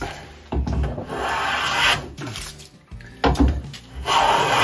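A hand plane shaves a wooden board while building a vertical shooting board for a workbench, giving loud, close rasping strokes in several long passes with short pauses between.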